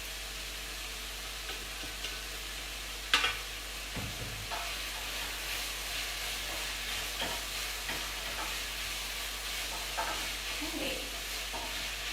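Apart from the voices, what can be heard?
onions and Thai green curry paste sizzling in a pan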